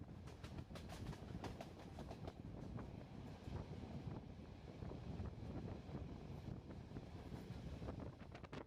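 Passenger train ride in Romania, heard from inside a carriage: steady loud rumble with repeated clickety-clack of wheels over rail joints and some wind buffeting, with no one talking.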